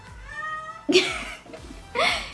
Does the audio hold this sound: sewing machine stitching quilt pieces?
no